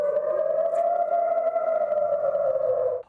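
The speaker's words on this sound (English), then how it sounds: "And there are the sirens." An air raid siren warns of an Iranian missile barrage, a steady, loud wailing tone held for about three seconds before cutting off abruptly.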